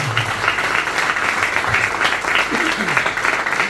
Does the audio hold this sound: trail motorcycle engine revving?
no